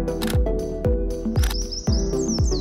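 Javan white-eyes chirp in quick, bright bursts, several calls close together over a steady low background hum.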